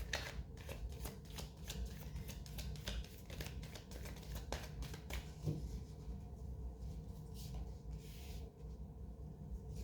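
A deck of tarot cards shuffled by hand at close range, rapid riffling and flicking card sounds in quick bursts that thin out toward the end, quiet and alone without talk.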